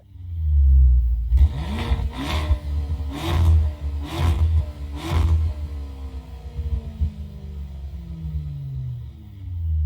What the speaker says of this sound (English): Trofeo models have that unique Maserati roar that we all know and love.